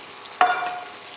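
Round slices of native Kerala nendran banana cook in ghee in a pan, a sudden close sizzle bursting up and then easing into a softer hiss over about a second, with no talking.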